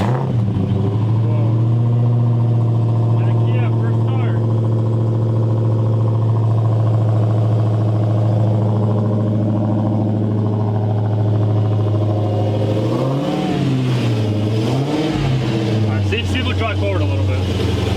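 The engine of a 2016 Dodge Hellcat, a rebuilt wreck, rumbles loud and close at a steady idle before revving up and down several times near the end, with people talking over it.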